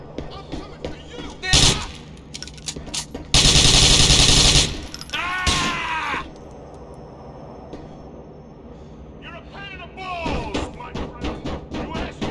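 Bursts of automatic gunfire rattle in GTA IV, with one long dense volley and several shorter shots amid game noise, and voices speak between the bursts.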